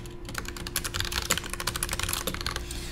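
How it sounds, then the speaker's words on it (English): Quick, dense keystrokes rattle across a computer keyboard while text is entered into an online eSignature form field, a close, continuous burst of clicks with no pauses. "So whatever I type in here,"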